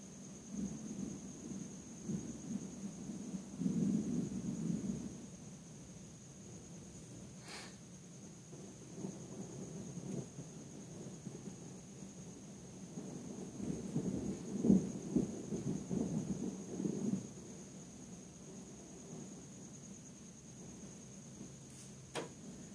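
Low rumbling thunder from a lightning storm rolls in two long swells, distant and muted, with quiet steady background hiss and no talking.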